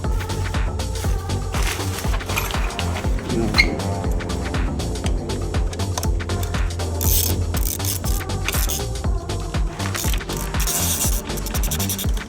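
Ratchet driving T25 Torx bolts on a truck, a fast continuous clicking of the pawl in repeated bursts, loud and close, with brief pauses between runs and no voice over it.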